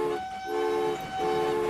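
A train horn sounds in the railway video game Transport Fever 2, giving two loud tonal blasts separated by a short gap, the second held to the end.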